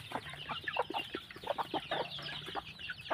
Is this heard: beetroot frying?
no